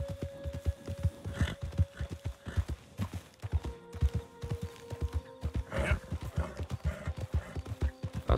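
Horse hooves clip-clop steadily in Red Dead Redemption 2, a Tennessee Walker at a brisk regular gait, close and prominent with a few whinny-like tones and game sounds layered over the hoofbeats.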